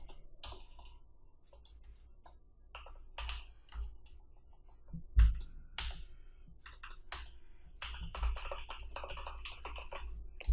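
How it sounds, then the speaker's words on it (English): Irregular clicking of keys on a computer keyboard while HTML code is typed, close and fairly quiet, with short pauses and quick bursts of keystrokes. "You are free to type"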